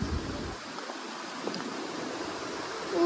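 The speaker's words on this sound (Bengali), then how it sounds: "আর এই দেখো ওয়াটার ফ্লোটা" A stream flows through a rainy forest, giving a steady, moderately close rush of water that continues unbroken throughout.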